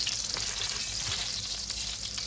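Vermicelli toasts in olive oil for Turkish pilaf, a steady close hiss of frying with faint stirring scrapes, continuous and without speech.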